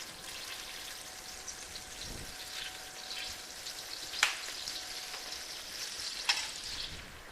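Turkey meat searing in hot fat in a pan makes a quiet, steady crackling hiss, with two brief sharp pops about two seconds apart and no talking.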